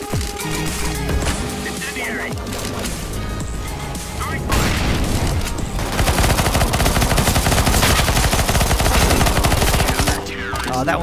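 Rapid bursts of Bizon submachine gun fire and other gunshots in Counter-Strike, dense rattling volleys growing louder midway, with game sounds and talk mixed in.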